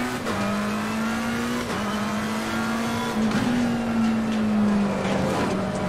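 A McLaren GT3 race car engine in a racing simulation game drones steadily at high revs while the car runs over curbs, with brief pitch dips at gear changes and no talking.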